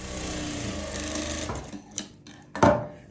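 A sewing machine stitches along the edge of blouse fabric, running steadily and close for about a second and a half, then stopping, followed by a few handling knocks and a short burst of stitching.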